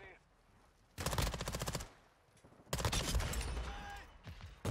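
Two bursts of rapid automatic fire from a BAS-P submachine gun in Modern Warfare 2 Season 3, close and loud, separated by a quieter pause, with faint game ambience between.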